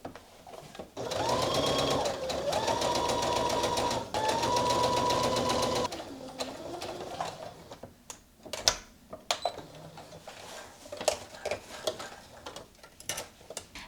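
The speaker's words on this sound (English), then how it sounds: "now we're going to stitch a 1/4 inch from the raw edge with a basting stitch just along the bottom curved edge" A sewing machine runs a basting stitch along the curved bottom edge of a Know Me ME2149 sewing pattern piece in steady close bursts for about five seconds, then stops, followed by faint clicks and handling noises.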